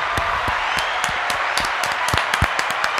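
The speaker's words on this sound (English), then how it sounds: "Just a round of applause on the way out." Scattered hand claps from a small group on a podcast, loose and uneven, with a few sharper individual claps standing out over a steady hiss-like wash.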